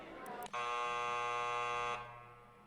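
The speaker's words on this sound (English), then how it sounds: "The buzzer sounds again," A stage show buzzer in the video game Granblue Fantasy sounds as a single loud, steady, harsh electronic tone lasting about one and a half seconds, preceded by a couple of brief clicks.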